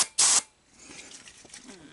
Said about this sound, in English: So I'm just gonna spray a little cleaner down there.